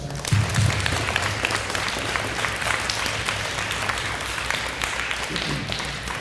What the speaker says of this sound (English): So let's give your parents who showed up today a big round of applause.